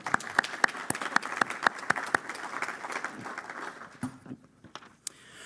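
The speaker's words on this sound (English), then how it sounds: "So let's give them a round of applause." Audience applause at a USC Architecture event, with sharp individual claps standing out in the first couple of seconds, then thinning into scattered, fading claps before a final few.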